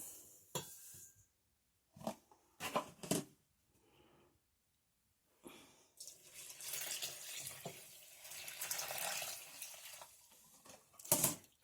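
Water pours in short bursts, then a longer steady splashing stream into a bowl for bread dough, with a few clinks of dishes and quiet gaps between.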